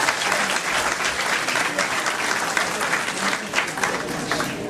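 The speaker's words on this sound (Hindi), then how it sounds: "आपने भरपूर तालियों से उनका इस्तकबाल करना है।" Sustained applause from an audience welcoming guests onstage at a naat contest in Holland, steady and dense clapping throughout, close and fairly loud, with a few cheers mixed in.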